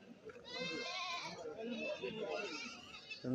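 Goats at the 28th Mile goat market in Kerala bleat in a drawn-out, wavering call close by, with people talking over and around it.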